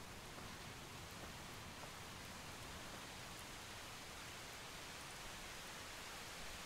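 Steady, even rain shower in the zombie survival game Project Zomboid, a dense broadband hiss that fills the whole stretch without breaks, with no voices over it.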